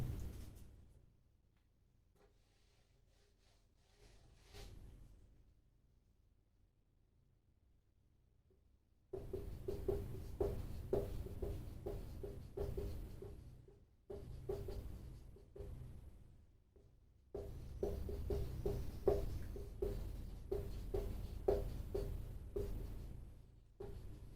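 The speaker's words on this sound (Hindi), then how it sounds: "मैं लिख देता हूँ कुछ परिचय इनका।" Notes being handwritten during a lesson on the Vice President's biography, with pen or chalk strokes scratching in quick irregular bursts, faint at first and then louder and steadier for long stretches with short pauses between.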